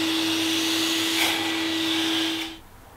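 A homemade bee vacuum runs with a loud, steady whooshing whine and a clear tone for a few seconds, then cuts off and winds down.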